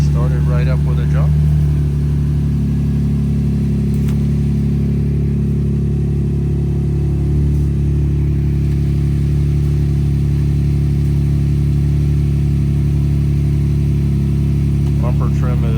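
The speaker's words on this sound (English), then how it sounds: "Started right up with a jump." A towed car at a police towing auction, carrying front-end damage, idles steadily after a jump start, a continuous low engine drone running throughout with a brief voice early on.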